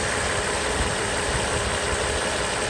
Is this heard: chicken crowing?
no